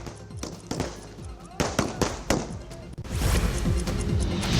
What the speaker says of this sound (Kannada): ಗ್ರಾಮಸ್ಥರು ಪಟಾಕಿ ಸಿಡಿಸಿ ಸಂಭ್ರಮಿಸಿದರು